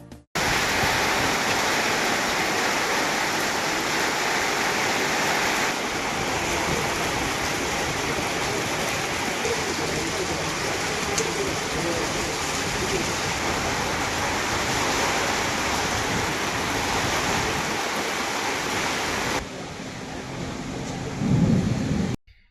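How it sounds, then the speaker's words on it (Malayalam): Heavy summer rain and gusting wind with a whirlwind roar in the hill country in a dense, continuous wash of noise that drops off near the end. "വേനൽ മഴയും കാറ്റും പല സ്ഥലങ്ങളിലും നാശനഷ്ടമുണ്ടാക്കി"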